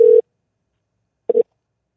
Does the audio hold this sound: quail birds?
no